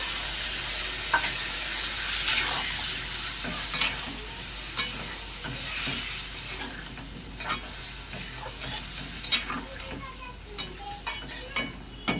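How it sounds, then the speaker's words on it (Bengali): Potatoes sizzle in a pan with a little water while a spoon stirs them, a continuous frying hiss broken by frequent scraping clicks against the metal, close by. "একটু ভালো করে কষে নেব অল্প একটু জল দেবো জল দিয়ে ভালো করে কষে নেবো"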